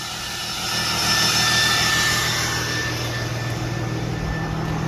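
A pickup truck's exhaust drones steadily with a low, rumbling tone under a broad hiss, swelling slightly in loudness after the first second and then holding even, with no talking.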